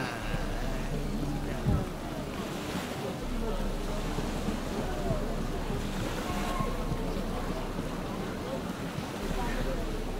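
Steady rain and wind in The Witcher 3 video game, a broad continuous hiss filling the scene from start to finish at moderate level, with faint game noise beneath.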